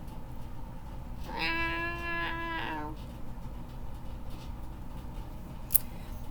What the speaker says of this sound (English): Meowing and hissing ferociously, the colossal cat took 3 giant kitty steps.